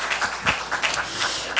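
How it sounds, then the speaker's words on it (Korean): Audience clapping in a church service, a steady broadband patter of many hands across the short stretch with a slight swell at the end, no talk over it. "마음에 안 들어도 박수 쳐요."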